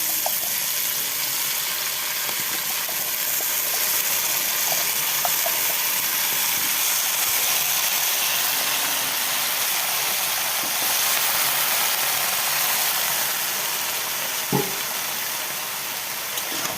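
Chopped, washed vegetables frying in a pan for authentic Bengali home cooking give a steady, loud, hissing sizzle close by, with an occasional clink and no talk.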